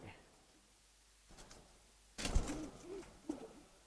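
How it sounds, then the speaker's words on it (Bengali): New giribaz pigeons cooing in a pigeon keeper's collection, a few soft low coos rising after a quiet start, with handling noise and faint background murmur around them. "এগুলা মাত্র নতুন কবুতর"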